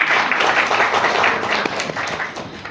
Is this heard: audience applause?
yes